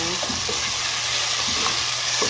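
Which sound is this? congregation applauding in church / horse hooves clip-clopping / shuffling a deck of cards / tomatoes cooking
tomatoes cooking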